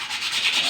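Hand polishing of a knife blade by hand with a carborundum stone and sandpaper, with no machine used: a steady, continuous abrasive rubbing heard up close and alone, without breaks.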